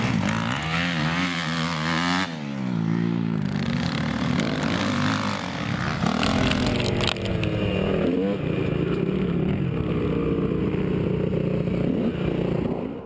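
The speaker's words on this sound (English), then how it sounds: "this is how I envision you riding a dirt bike" A dirt bike revs and rides over rutted ground, the engine loud and close, rising and falling in pitch as the throttle opens and closes, with clattering throughout.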